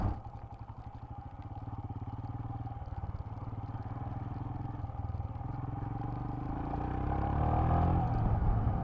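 A 2019 Royal Enfield Himalayan motorcycle rides a bumpy road, its engine thumping steadily under constant wind rumble and chassis rattle, growing louder and deeper toward the end.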